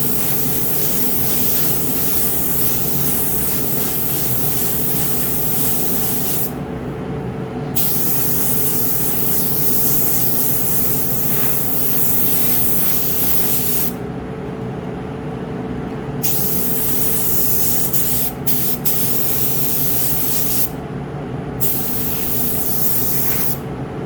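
A spray gun lays black solvent base coat on a car part in a workshop, a loud steady hissing spray in long bursts separated by short pauses, close and continuous.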